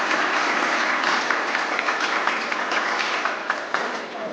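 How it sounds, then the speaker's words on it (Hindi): An audience applauds at a live webinar event, a broad continuous wash of many hands clapping, fairly loud and steady, gradually tapering toward the end with no voices on top. "तालियां बजने लगती हैं"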